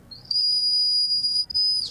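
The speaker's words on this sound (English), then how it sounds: "I'm wearing a whistle today" A whistle is blown close up in one long shrill steady blast, briefly interrupted near the end and then resumed before trailing off.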